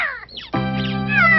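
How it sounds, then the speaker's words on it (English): A cat stuck up in a tree lets out a loud, drawn-out meow that rises and wavers, close and clear, preceded by a short higher squeaky cry. "Toxie, my kitty cat's stuck in the tree."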